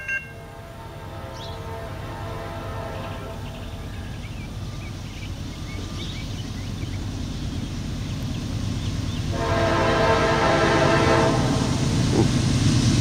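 A westbound Norfolk Southern hopper train in Suffolk, Virginia, led by GE AC44C6M locomotive 4157 with heavy power, rumbles past steadily, horn tones sounding over the rolling wagons and growing louder toward the end.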